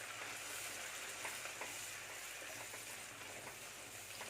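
Ground masala sautés in oil for a Thanjavur-style fish curry, a faint but continuous dense sizzle with light stirring scrapes, no voices present.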